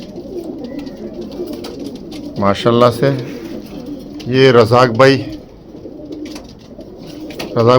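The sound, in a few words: Someone's pigeons cooing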